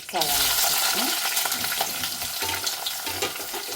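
Onions dropped into hot oil for mutton curry, a loud burst of frying at the start that settles into a steady sizzle with occasional spoon scrapes, close and without speech.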